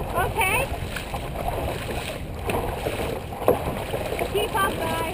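A dragon boat crew paddling together during practice, water splashing and rushing under steady wind noise, with voices calling out over the strokes.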